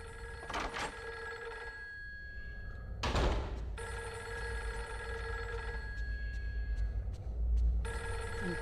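An old telephone bell rings in the horror video game Fatal Frame 3, loud repeated ringing bursts separated by short pauses, over a low eerie ambient drone, with no talking.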